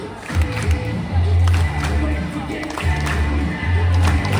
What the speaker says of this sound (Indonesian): terima kasih atas semangat tepuk tangannya